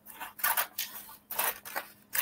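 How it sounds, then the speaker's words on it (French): Scissors snip through paper in several short, crisp bursts, close and fairly loud, with brief pauses between each cut and no talking. "vous prenez les ciseaux et vous coupez"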